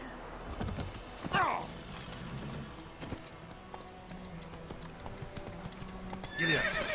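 A horse whinnies loudly in The Witcher 3: Wild Hunt, then hooves clip-clop steadily at a trot, with a second whinny near the end; game ambience sits underneath.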